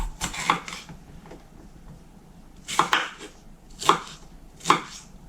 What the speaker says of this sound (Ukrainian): І так переріжемо всі овочі